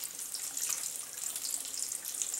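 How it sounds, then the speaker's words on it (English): Cooled liquid is poured steadily into a container, a continuous close trickling and splashing stream with no talk. "I don't know if you can see me pouring this right in."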